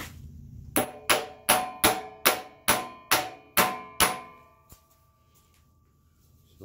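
Nine evenly spaced metallic taps drive a wobbly pulley into a snug fit, ringing sharply close up, followed by one fainter tap and quiet.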